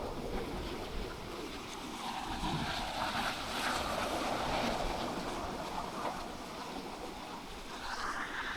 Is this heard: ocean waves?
yes